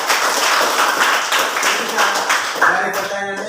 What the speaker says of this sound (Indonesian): Ya, tepuk tangan untuk Egi.